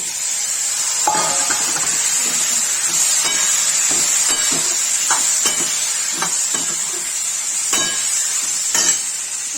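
A spoon stirs tinda with fried onion, turmeric and red chilli in a pan, scraping in irregular bursts over a steady, close sizzle, with no talking.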